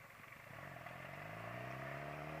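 A 600cc sports bike engine drones steadily while riding, its pitch slowly climbing as it accelerates, with road and wind noise underneath.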